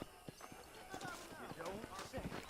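Horse hooves in Red Dead Redemption clip-clop in a quick, steady trotting rhythm at close range while a voice talks over them.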